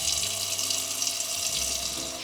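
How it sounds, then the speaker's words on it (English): Tap water pours steadily into a cooking pot being filled for boiling green beans, a constant close splashing rush with no talking. "we're gonna fill some water into this pot for boiling the green beans"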